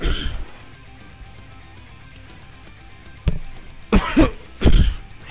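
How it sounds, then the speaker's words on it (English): A quiet stretch, then a few harsh, loud coughs close by, coming in quick bursts near the end. "Again, I apologize for the cough."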